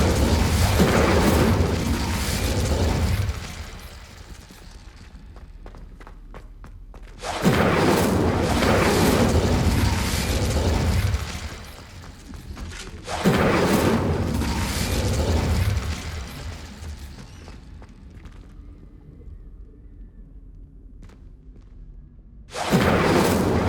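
The Incendio fire spell is cast repeatedly in Hogwarts Legacy on PS5, loud roaring bursts of flame with whooshes and booms, each lasting several seconds and separated by quieter gaps.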